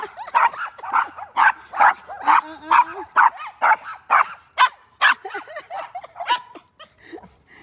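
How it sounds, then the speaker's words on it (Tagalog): Three dogs fighting: a steady run of close, rapid barks and yelps, with whining and snarling cries in between, tapering off toward the end. "Nag-aaway na yung 3 aso."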